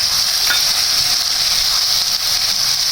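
Whole spices such as black cardamom, cloves, black peppercorns and cumin sizzle and fry steadily in hot oil for a fish curry, a loud, continuous close-up hiss with faint stirring, no voices.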